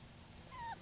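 A four-week-old Bullmastiff puppy gives one brief, faint whimper that rises and falls over a low background rumble.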